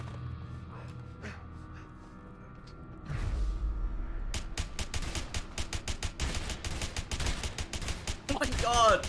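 Video game gunfire starts after a few quiet seconds with a low thud, then a rapid burst of sharp, loud shots that continues to the end, while a player gasps and reacts underneath.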